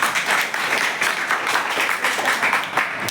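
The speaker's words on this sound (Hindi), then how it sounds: "जोरदार तालियां।" Loud, dense applause from a classroom of schoolchildren, continuous and broad, with a voice faintly mixed in.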